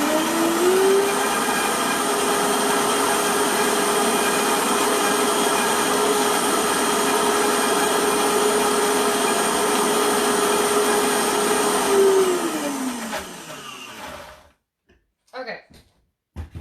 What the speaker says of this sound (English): Can you guys see the blender?